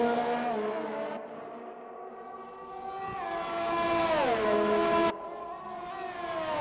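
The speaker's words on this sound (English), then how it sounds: "So here is Kyle in the Renault." A Renault racing car engine in a racing video game on a Netherlands circuit holds a loud, steady high-pitched whine that climbs through gear changes, dips briefly and rises again, with no talk.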